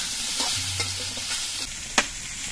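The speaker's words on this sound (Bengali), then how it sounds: "জিরের গুঁড়ো দিয়ে নাড়াচাড়া করে আমি শসাগুলো দিয়ে দিচ্ছি" Cucumber pieces are stirred in a hot pan with cumin powder, giving a steady sizzle with sharp scraping strokes of a spatula and a couple of louder clanks, close up and with no talking.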